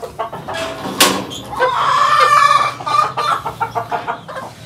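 Backyard chickens and a rooster let out to sun themselves cluck steadily and loudly nearby, with a drawn-out call rising in the middle among repeated short clucks, with no talking.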